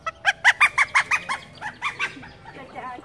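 Chickens at a temple in Sóc Trăng cluck in a quick run of loud, evenly spaced calls, then a few looser, quieter clucks trail off, with no talking.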